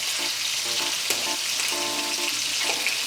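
Peeled shrimp fry in a hot pan with a steady, loud sizzle, broken by a few short clinks and scrapes of stirring; no voices.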